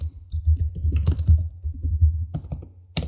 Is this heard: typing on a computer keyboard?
yes